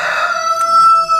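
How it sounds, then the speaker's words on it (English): A rooster crows loudly and close by, one sustained, slightly wavering call with no voices around it. "cockerel has to make a noise as normal."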